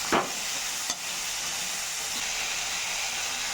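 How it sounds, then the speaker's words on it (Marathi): Whole spiny gourd (kantola) fries in a pan of cooked-down tomato, giving a steady, close hiss of sizzling. A couple of brief scraping knocks from stirring land near the start, and no one speaks. "हा कंटोला मी पूर्ण टाकून घेते, तो पण फ्राय होतो टोमॅटोमध्ये."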